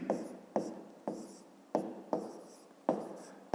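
Pen strokes writing out a fifth-grade math exercise by hand, a series of soft, close scratching strokes in an even rhythm, each one starting sharply and then fading.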